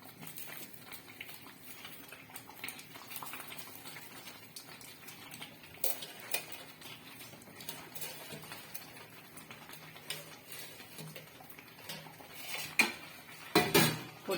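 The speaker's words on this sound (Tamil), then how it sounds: "அந்த மசாலாலாம் உள்ள போற மாதிரி நல்லா மிக்ஸ் பண்ணுங்க." Fried mushrooms stirred into thick masala in a pan, with steady scraping and clinking of a utensil against the pan and louder knocks near the end.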